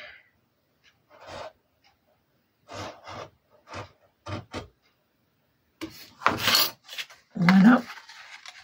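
Vellum paper is cut by hand in a string of short, separate scraping snips and rubs, quiet and close, with longer rasping strokes and a faint breath near the end.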